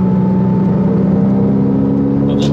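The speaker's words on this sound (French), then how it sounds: "Vous entendez le moteur là quand on pousse un peu" Porsche Cayman S 987.1 flat-six engine droning under light throttle from inside the cabin, a loud steady mid-pitched hum that holds level throughout, with no talk over it.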